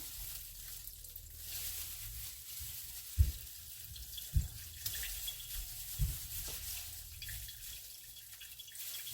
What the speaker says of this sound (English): Just want to squeeze it in your strainer.